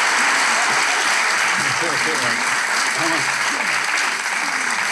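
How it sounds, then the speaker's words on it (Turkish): Enthusiastic studio audience applause on a Turkish talk show fills the stretch, dense and continuous, with voices speaking faintly underneath. "Hadi Coşkun Alkış."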